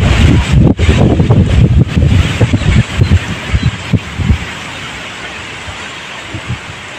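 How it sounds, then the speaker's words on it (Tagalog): Strong wind buffets the microphone in heavy, rumbling gusts that ease off toward the end, leaving a steady airy hiss. "Grabe pusok sa hangin oh."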